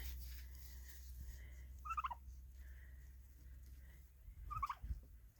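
Two short, warbling calls from hens on an egg-producing farm sound a few seconds apart over a low steady hum, fairly close but not loud.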